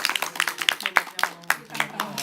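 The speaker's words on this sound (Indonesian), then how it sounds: "Tepuk tangan dulu biar" Scattered claps from an audience at a local gathering in Indonesia, a handful of sharp separate hand claps rather than full applause, mixed in with ongoing talking and chatter.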